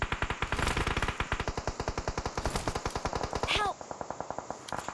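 Rapid automatic gunfire from a shooting video game rattles in dense bursts, loud and close, with a brief pause near the end before sparser shots resume; a voice speaks faintly underneath.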